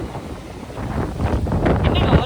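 Strong wind buffets the microphone outdoors in Trichy, India, as a broad, rough rumble that grows louder toward the end.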